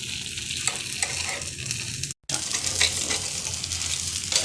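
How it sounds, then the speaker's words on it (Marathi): Appe batter frying in a hot appe pan as the pieces are turned one by one, with a steady close sizzle and stirring clatter broken by a brief silent gap. "हे सगळे एक एक करून आपल्याला याला पलटवून घ्यायचे आहेत।"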